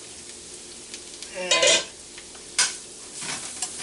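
Sliced carrots sizzle in a hot pan for a Szechwan shrimp stir fry, a steady frying hiss broken by a few sharp scraping stirs of a utensil against the pan.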